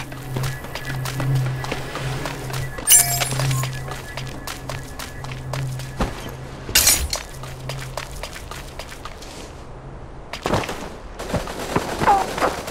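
Gunfire in the mecha battle video game Super Mecha Champions: several sharp bursts of shots at about three, seven and ten seconds, set against a steady hum and running footsteps in the game.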